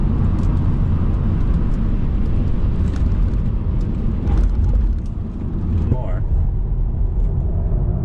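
A Tesla Model 3 Performance accelerates at full power on a race track, giving a dense, loud roar of road and wind noise inside the cabin, with a rising whine near the end and a voice talking over it.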